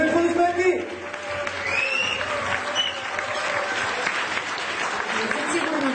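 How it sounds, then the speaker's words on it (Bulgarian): An audience at a Business Woman of the Year award ceremony in Bulgaria claps in sustained applause that swells and then settles, with a voice carrying over the clapping. "Чуем аплодисменти!"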